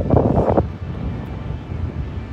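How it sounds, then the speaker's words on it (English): Strong wind buffets the microphone on a coast during fishing, a steady rough rush with a louder gust at the start and no talking. "it's windy AF"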